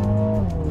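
A 2020 Mini JCW Clubman with an automatic gearbox at full throttle, a steady engine drone with strong low harmonics holding loud and close for a moment.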